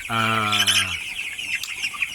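A chicken gives a loud, drawn-out cluck close by as chickens are loaded, followed by a busy background of softer chirps and peeps from many birds.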